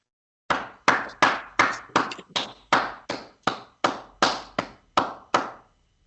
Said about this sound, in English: please give a very big round of applause to our lovely Program Director, Mr. Robin George, and our wonderful speakers from today